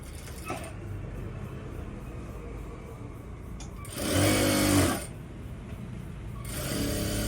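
Sewing machine stitching a joint on a pair of pants, with low background hum broken by a short, loud burst of rapid whirring stitches, then quieter machine sounds toward the end.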